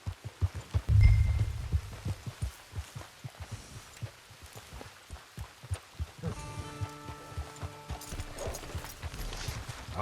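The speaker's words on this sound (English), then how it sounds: "Get your horse." Horse hooves clip-clop in the Red Dead Online video game, a steady, moderately close rhythm of hoofbeats walking along, joined partway through by a low tonal music or ambient layer.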